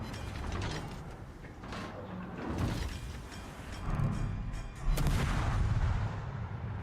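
Naval gunfire from an enemy ship in a warship game, heavy booming salvos and mechanical clanks rolling over a dense, loud battle backdrop.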